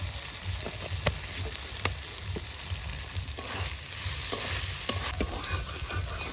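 Egg curry masala stir-fried in a pan, with a steady close sizzle broken by repeated sharp spatula scrapes and taps against the pan throughout.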